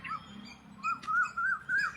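Peacocks call in a garden, a string of four or five nasal, wavering cries close by, with faint background noise between them.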